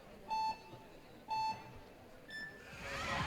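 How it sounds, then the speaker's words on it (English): Starting buzzer at a youth women's speed climbing final, IFSC World Championships in Arco 2019: two matching beeps about a second apart, then a higher third tone, fairly faint over rising crowd noise. "so fast away from the starting buzzers"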